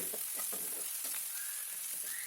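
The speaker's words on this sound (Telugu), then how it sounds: "ఇప్పుడు ఒక టీ స్పూన్ నుండి అల్లం వెల్లుల్లి పేస్ట్ వేసుకొని పచ్చివాసన పోయే వరకు వేయించుకోవాలి" Ginger garlic paste sizzles in a hot pan, a quiet steady hiss broken by soft scrapes and stirring strokes, with no talking.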